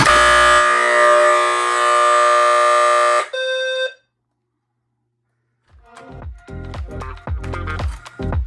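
A P2RH horn strobe fire alarm blares a loud, steady tone continuously for a few seconds, then a brief harsher tone, silence, and clattering handling noises with voices afterward.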